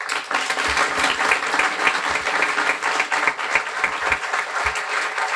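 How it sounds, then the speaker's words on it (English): A warm round of applause fills a guide dog graduation ceremony, dense crowd clapping with sharp individual claps standing out, sustained and fairly loud from start to finish. "provide us with a warm round of applause for Kathy Zabrickier, Vice President of Trai"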